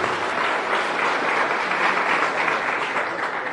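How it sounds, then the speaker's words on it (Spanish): Full, steady applause from a crowd at a Bolivian ceremony honoring Álvaro Luis García, loud and continuous for the whole stretch. "Fuerte el aplauso para Álvaro"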